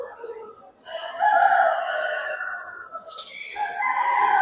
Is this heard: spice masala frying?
no